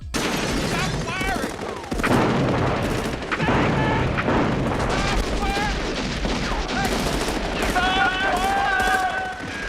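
Gunfire from the 1971 horror film I Drink Your Blood, a loud continuous barrage of shots layered over dense film soundtrack and music, with voices mixed in.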